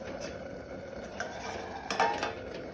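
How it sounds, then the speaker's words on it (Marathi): Red amaranth greens are stirred in a cooking pot, with soft scraping and a couple of light metallic clinks as a lid is set back on, faint under a steady background hiss. "आता आमी भाजी धवळून घेवया। परत झाकण घालून दवरता।"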